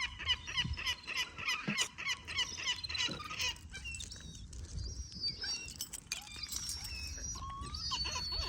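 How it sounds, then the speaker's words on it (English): Seagull chicks call in high, thin cries on a foggy day, repeated near and far against steady outdoor background noise, with other bird calls mixed in. "We got some seagull chicks"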